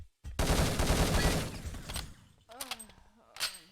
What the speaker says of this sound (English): Good shooting by Moscow here.